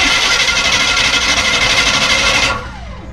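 A starter cranks over the engine of a classic milk truck undergoing rescue, a loud, steady, rapid churning rhythm close by that cuts off abruptly near the end, leaving a faint fading hum.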